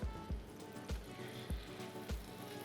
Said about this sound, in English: you can tell your pan's hot when you can hear that sizzle